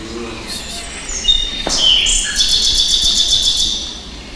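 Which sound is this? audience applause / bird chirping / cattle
bird chirping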